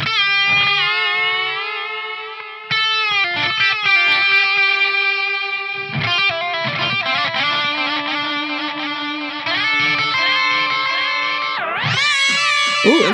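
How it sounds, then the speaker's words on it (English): An electric guitar played through a Fender Tone Master Pro with a tape echo delay sings sustained lead notes and bends, each phrase trailing repeating echoes, loud and alone, ending with a sweeping upward slide. "Let's go with a delay. Yeah, some lead tones in there. Okay, there we go. Tape echo."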